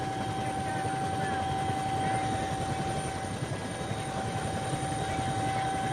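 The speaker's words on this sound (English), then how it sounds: "how we are going to be able to get out of this helicopter on such a narrow strip" Helicopter drones steadily and loudly from inside the cabin as it sets down on a narrow island strip of a sea stack off the Mayo coast, a constant rotor and engine roar with a steady whine.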